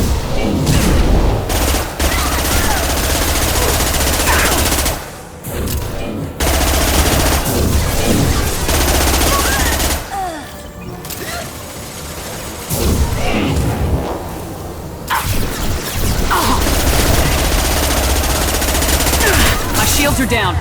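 Heavy weapon gunfire in Mass Effect 2 blasts in long, loud sustained bursts with booms and crashes, broken by a few brief pauses, over game sounds.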